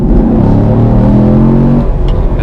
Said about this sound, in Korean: 엔진 소리가 참 좋네요